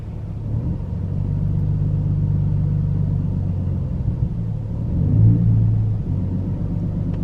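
Supercharged Ford Mustang GT500 with a manual gearbox pulling away gently in first gear, a steady low engine rumble that swells briefly toward the end, close and alone without talk.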